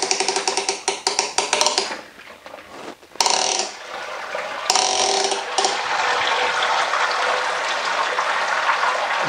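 A hoist on a Clawhammer Supply home brewing system ratchets the grain basket up out of the wort, with rapid mechanical clicks followed by steady pouring and draining liquid, loud and close.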